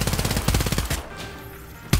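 Rapid submachine gun bursts ring out in a vampire battle royale video game, a loud fast stream of shots that breaks off after about a second, followed by a quieter tail and one last sharp shot.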